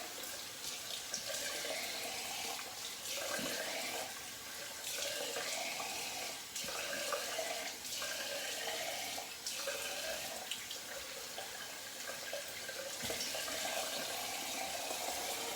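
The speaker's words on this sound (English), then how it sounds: "Let's get it rinsed and see how that feels." Tap water running into a sink while shaving soap is rinsed off, a continuous splashing stream with brief interruptions and changes in flow, close and alone.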